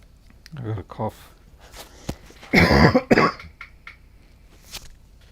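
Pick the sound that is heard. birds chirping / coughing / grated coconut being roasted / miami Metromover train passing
coughing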